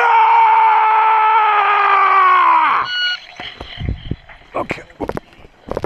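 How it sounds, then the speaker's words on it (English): A person lets out a long, loud, sustained yell for nearly three seconds, then it breaks off into scattered knocks, thumps and movement noises nearby. "grab the torch, let out a yell"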